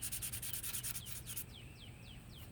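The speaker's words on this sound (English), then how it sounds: "I'm gonna sand all that off." Rhythmic back-and-forth rasp of sandpaper on the handle of a small handmade viking axe, fast strokes at first, then slower squeaky rubs, close and fairly quiet.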